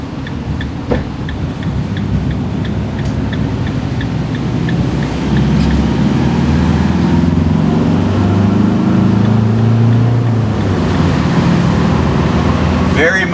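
A Ram ProMaster diesel van accelerates onto the interstate, its engine drone and road rumble building steadily inside the cabin, with a voice speaking over the noise.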